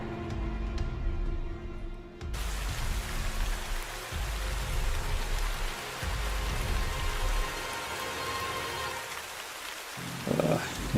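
Steady rain falls in a Garry's Mod animation, a dense even hiss of drops on surfaces that swells in after a quieter opening and continues close and unbroken, with no voices.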